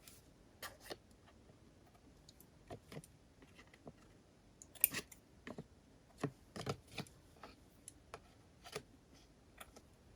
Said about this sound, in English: Let's just cut these threads.